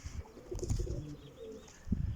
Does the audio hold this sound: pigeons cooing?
yes